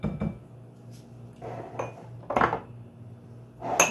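A utensil knocks and scrapes against a bowl while eggs and olive oil are mixed together, several short clinks at irregular moments over a soft background hum.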